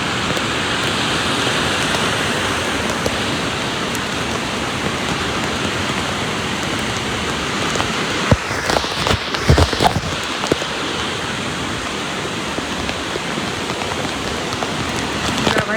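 Heavy early-morning rain pours over Dwarka as a dense, loud, unbroken roar, with a few brief louder gusts or splashes midway.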